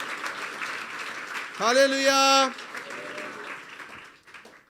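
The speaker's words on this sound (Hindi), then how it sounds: "फिर बजा दें तालियां यीशु के लिए।" A church congregation claps briefly in applause during a sermon, a short burst set against a strong sustained tone, with someone speaking before and after.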